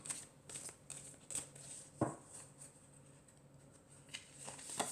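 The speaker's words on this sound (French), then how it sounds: "Alors, je vais tirer déjà 4 cartes." Oracle cards are shuffled and drawn, giving soft, irregular riffling and sliding card sounds with a sharper snap midway, quiet and close with no speech.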